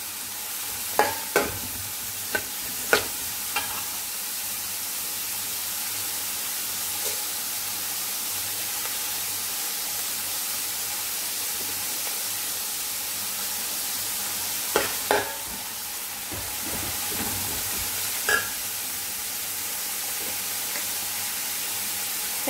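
Sliced onions saute in a pan for a Kerala-style spicy beef curry, giving a constant close frying hiss broken by clinking, scraping stirs in short clusters.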